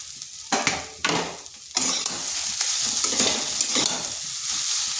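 Eggs crackle and sizzle loudly as they are stir-fried in a hot pan for chowmein, with scraping stirs breaking in before a sustained, bright sizzle builds and holds.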